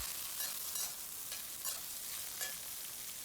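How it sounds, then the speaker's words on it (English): Red and green chili peppers and pork liver stir-fried in a wok with dark rice vinegar, a loud continuous sizzle with repeated scraping strokes of the spatula, close up and with no talking. "Keep stirring until the pepper gets soft."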